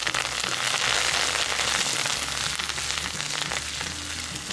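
Dried red chillies and curry leaves roasting in a hot pan for soya chunks chukka, a steady dense crackling sizzle that holds even and fairly loud throughout, with no voices.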